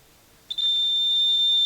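An electric buzzer switches on after a brief silence and holds a steady, high-pitched continuous tone, close and clear.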